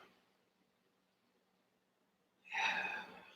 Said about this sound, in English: the breathing with sound is going to be the thing to practice today